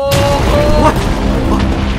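Explosion in the Minecraft video game, a broad burst of noise with a sharp onset followed by rumbling crashes that last about two seconds, loud and close, with a voice faintly present under it.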